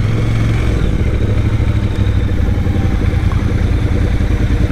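A motorcycle engine runs steadily and loud at close range, with a low, throbbing rumble and mechanical clatter that holds throughout, recorded during a group motorcycle ride around Newport and Laguna Beach.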